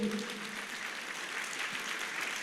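Congregation at a church sermon clapping in steady applause, a dense, moderately faint wash of hands that holds evenly throughout, with a brief voice at the very start.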